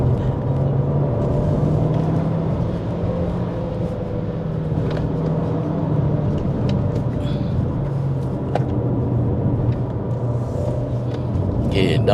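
Inside a Chery Tiggo Cross driving downhill on the Genting road, a steady low cabin rumble of engine and tyre noise holds throughout, with faint occasional clicks and knocks above it.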